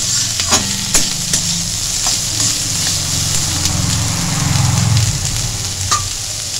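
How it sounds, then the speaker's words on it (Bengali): Chili, carrot and tomato frying together in a pan for vegetable Maggi noodles, stirred steadily with a spoon: a continuous close sizzle with scraping strokes and occasional sharp clinks against the pan. "এরপর ভালো করে নেড়ে নিচ্ছি আবারও।"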